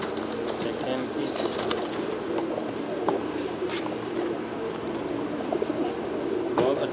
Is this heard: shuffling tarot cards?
no